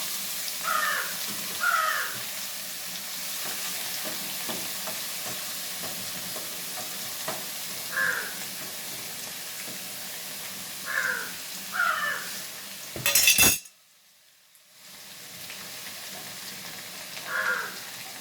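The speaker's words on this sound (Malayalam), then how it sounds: "അപ്പം അങ്ങനെയുള്ള ആ ചീരയുടെ ഇല ഇനി നമുക്കിതിലേക്ക് ഇട്ട് കൊടുക്കാം." Mysore spinach (vēli cheera) leaves being stirred and fried in a pan make a soft ongoing sizzle and scraping, while crows caw intermittently nearby. A sharp clatter comes near the end, followed by a brief silence.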